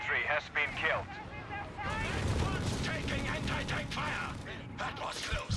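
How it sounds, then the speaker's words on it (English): Anti-tank fire and battle noise in the World War II strategy game Company of Heroes 3, a dense rumble of shots and blasts under voiced game callouts throughout. "Taking anti-tank fire!"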